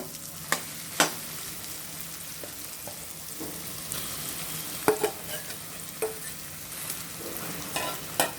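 Samosa stuffing is roasted in a pan, a quiet steady sizzle broken by sharp spoon clicks and scraping stirs at irregular intervals, with no voices.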